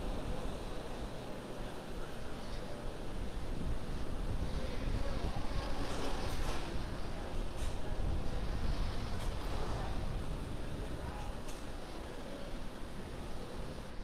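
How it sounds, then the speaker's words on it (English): A steady, broad roar holds for the whole stretch, loud and continuous like powerful rocket engines at full thrust, with no voices: a simulated SpaceX launch of nine Merlin 1D engines in SimpleRockets 2. "the 9 Merlin 1D engines going back to full power"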